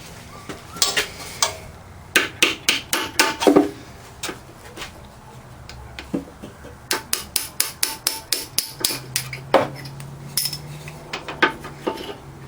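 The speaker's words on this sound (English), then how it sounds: "So you just have to drive that pin up from the bottom." A pin is driven out of the rocker arm of a Hercules 2 1/2 HP engine during disassembly, with bursts of sharp metallic hammer blows in quick rhythmic runs, close and loud, separated by short pauses and no talking.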